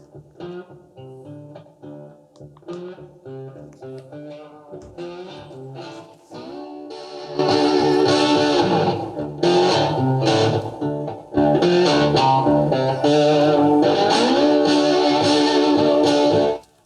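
An electric guitar with distortion, played over Bluetooth through a Philips Reverbeo B7X14A stereo radio: a few quieter, cleaner-sounding notes at first, then loud, dense, overdriven chords that swell and break off, with no talking.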